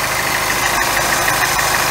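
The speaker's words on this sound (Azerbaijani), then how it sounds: "Buradan səs gəlir, kondisionerin səsidir." A Chevrolet Cruze engine idles steadily with its air conditioner compressor running, a continuous close mechanical hum and whir with a faint rhythmic knock throughout.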